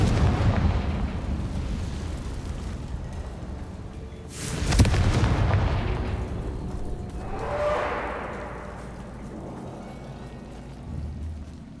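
A Confringo spell explodes in Hogwarts Legacy with one loud, sharp blast that rolls off into a rumbling tail, followed by a second, softer whooshing burst.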